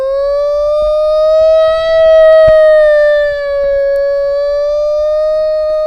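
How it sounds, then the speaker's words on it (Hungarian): A steady air-raid siren wails with a sustained rising-and-falling tone, loud and continuous throughout, with faint background rustle and no talk. "Sziréna. Sziréna. Légvédelmi."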